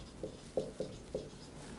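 Tally marks being written: four short pen or chalk strokes scratch in an uneven rhythm on a quiet background, close and fairly soft.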